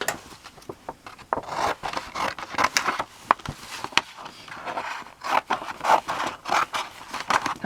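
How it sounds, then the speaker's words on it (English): Scissors snipping through glossy magazine pages to cut out images, a quiet close-up series of irregular crisp cuts and paper rustles, no talking. "I'll cut that out."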